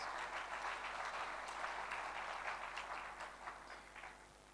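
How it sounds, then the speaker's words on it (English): A crowd applauds steadily for several seconds, a dense wash of many hands clapping that tapers off slightly toward the end. "Let us clap for all our governors in the house."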